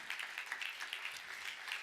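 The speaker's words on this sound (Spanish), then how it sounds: "le hace aplauso al Señor por misericordia" A church congregation applauds the Lord during a sermon: faint, fairly steady clapping from many people, heard at a distance with no voices over it.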